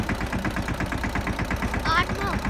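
A tractor engine runs nearby with a steady, rapid low chug and a regular pulsing beat, and a voice breaks in briefly over it.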